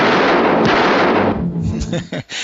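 Gunfire from a classic gangster film, a dense loud burst of shots filling the first part, then dropping to a scattered rattle of sharper cracks and pops under shouting voices.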